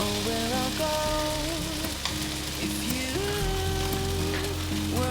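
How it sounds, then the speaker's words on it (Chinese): A taro and tofu patty pan-fries over medium-low heat, giving a steady, close sizzle throughout while music plays underneath and no one speaks. "用中小火慢慢的煎"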